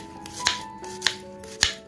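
Onions are sliced into long, thin strips with a knife on a board. Three distinct, evenly spaced chops ring out up close over a faint tonal background hum.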